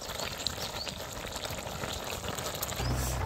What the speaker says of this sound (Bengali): জল ফুটতে শুরু হয়েছে